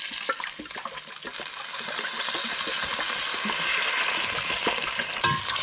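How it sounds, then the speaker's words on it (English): Butter and coconut milk sauce for crab linguine being stirred in a pan, a close, steady bubbling sizzle with soft liquid scraping and a few clicks from the utensil. "I'm gonna get all of this stirred in, and this will create our delicious little pasta sauce for our linguine"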